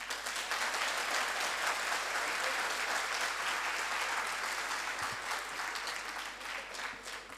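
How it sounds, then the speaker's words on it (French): Sustained audience applause fills an opening session of a youth summit, a dense steady wash of clapping from a large crowd that holds at full level throughout, with no voices over it. "Encore, vous n'avez pas bien applaudi."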